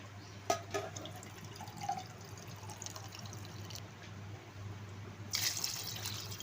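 Water pours softly into a pot of basmati rice for biryani, with quiet trickling and a few drips, faint against a low steady background hum.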